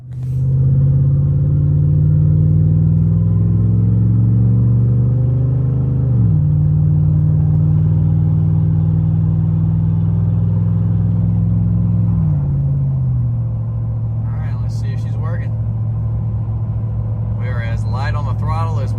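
A V8 truck engine fitted with a V4 delete drones steadily while driving, a deep continuous rumble with pitch dips at two gear shifts, near and loud, and a person talks over the later part.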